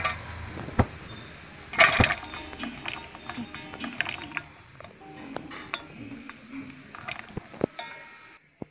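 Cut green chillies being tipped into a vessel for mango pickle: scattered clinks and rattles of metal utensils against the pot, with one loud clatter early on and softer knocks throughout.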